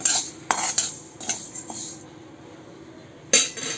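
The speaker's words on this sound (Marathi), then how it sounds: "मुगाची डाळ पण छान तांबूस भाजून घ्यायची आहे" Whole moong dal with skins being dry-roasted in a pan, with a metal spoon stirring and scraping in a few sharp clinks and scrapes, then a quiet stretch before another scrape.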